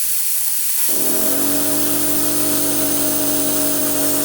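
Old oil being sucked out of a Toro commercial walk-behind mower's Kawasaki engine, a loud continuous hiss joined after a second by a steady whining pump drone that holds to the end.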